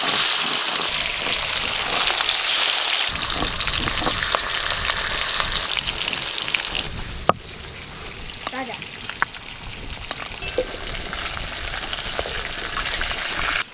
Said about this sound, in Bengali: সর্ষের তেল, মাছগুলো একটু লাল লাল করে ভেজে নেব।